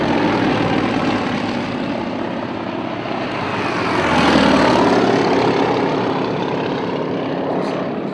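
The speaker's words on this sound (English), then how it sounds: "powered by a 360 horsepower Radial engine" Yak-52 Soviet-designed primary trainer with a 360 hp radial engine flying at an air race, a loud continuous propeller drone that swells slightly as it passes, with no voices.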